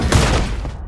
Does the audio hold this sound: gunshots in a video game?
yes